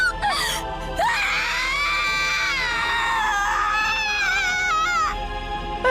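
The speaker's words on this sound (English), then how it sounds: "I'd give that scream like a 7 out of 10." A long, high-pitched wailing scream from a character in the Umineko visual novel, a single sustained cry of about five seconds that rises and wavers, loud and alone with no talk over it.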